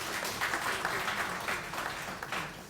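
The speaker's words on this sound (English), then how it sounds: "Can we give her another round of applause" An audience at a community fund launch event gives a round of applause, dense and steady clapping from many hands that fades slightly toward the end.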